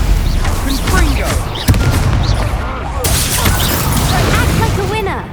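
Confringo fire spells exploding in the Hogwarts Legacy video game, a dense, loud barrage of booming blasts and crackling bursts that never lets up, with game noise and shouted voices layered over it.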